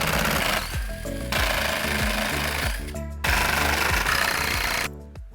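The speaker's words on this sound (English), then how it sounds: "The first step is going to be to remove these 7 T25 Torx bits around the perimeter of this third brake light bracket" A power driver removing T25 Torx screws from a Jeep Wrangler JL third brake light bracket, a loud buzzing ratchety whir in several bursts with falling pitch sweeps and brief pauses between screws.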